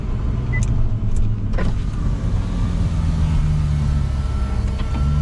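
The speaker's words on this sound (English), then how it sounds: "You can retract this roof in 30 seconds" The retractable roof of a Ferrari 488 Pista Spider operates in a smooth, steady electric motor whir under a constant low rumble, with a few faint clicks and a rising mechanical tone, close and fairly loud, no voices.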